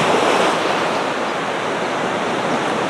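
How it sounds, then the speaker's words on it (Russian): Stormy sea surf and gusting wind at Anapa's central beach on the Black Sea coast, a steady loud roar of breaking waves and wind noise across the microphone, with no voices. "Сегодня штормик."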